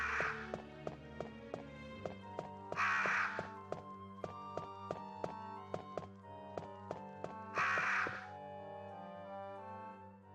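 Crows caw in the PS1 video game Resident Evil Director's Cut Dualshock Version: two harsh, raspy caws a few seconds apart over a steady, rhythmic ticking music bed, with no voices.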